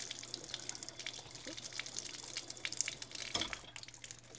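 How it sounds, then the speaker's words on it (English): Hot tap water splashes and trickles unevenly into a wine bottle, with drips and a brief gush near the middle, close up and fairly quiet. "You see the water rushes out."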